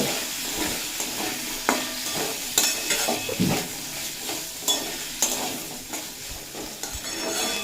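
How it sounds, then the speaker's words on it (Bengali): Potatoes frying on a low flame with ginger and chilli, a continuous soft sizzle broken by regular scrapes and clinks of a spatula stirring in the pan, close by and without talk. "আলু দিয়ে লো ফ্লেমে চার পাঁচ মিনিট মতো ভেজে নেব"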